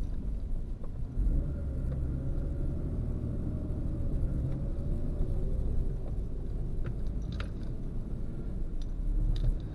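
A second-generation Ford Mountaineer drives along a road after new shocks have been fitted, giving a steady low rumble of engine and tyre noise from inside the cabin, unbroken for the whole stretch with no talk.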